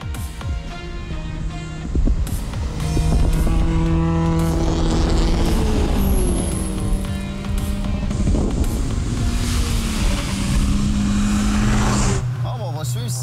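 Mazda MX5 race car lapping a track, its engine droning loudly with rising and falling revs through gear changes as it passes, with a brief whine, steady throughout and mixed with a voice.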